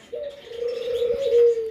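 A grey Australian ringneck dove in an aviary gives a single close, drawn-out coo lasting under two seconds, alone with no talk.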